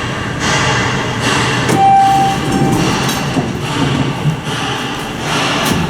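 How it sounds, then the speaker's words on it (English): Construction work echoes through the Pine St Ramp parking garage in Green Bay, WI: a loud, steady mechanical roar with recurring clanks and knocks and a brief high whine partway through. "There's some construction going on here in the garage,"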